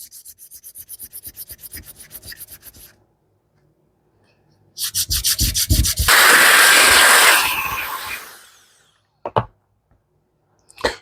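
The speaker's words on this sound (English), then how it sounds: "I'm going to take some sandpaper and just kind of grit this up." Sandpaper rubs against a golf club ferrule in quick, scratchy back-and-forth strokes at close range. A rhythmic first burst pauses, then a longer, harsher stretch of sanding follows and ends in a few short scrapes.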